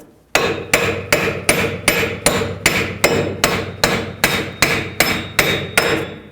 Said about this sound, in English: give it a couple taps with a hammer